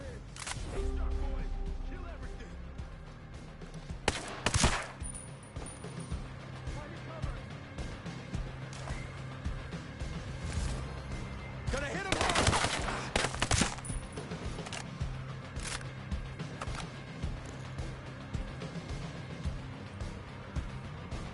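Sniper gunfire in the Ghost Recon video game: two sharp distant-sounding shots about eight seconds apart, cracking through a low, busy game ambience at modest volume.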